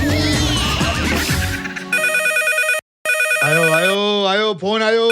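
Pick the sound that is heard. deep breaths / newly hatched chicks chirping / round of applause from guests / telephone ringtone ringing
telephone ringtone ringing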